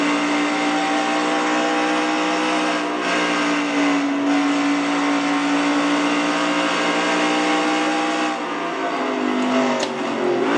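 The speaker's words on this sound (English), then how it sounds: "you are on board inside with Jessica Shelton in car number 9, the Coors Light Ford" Onboard roar of car number 9, the Coors Light Ford race car, lapping the Riverside circuit, a steady loud engine drone holding pitch before dipping as it shifts near the end.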